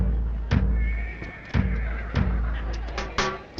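A horse at a yearly village horse market neighs in several sharp whinnies with short pauses between them, close and fairly loud.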